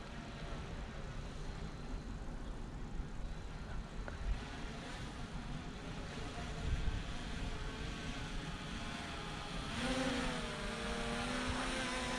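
A small i6 MAX brushless aerial drone flies outdoors with a steady, faint whirring buzz over constant background noise. The pitch rises briefly near the end.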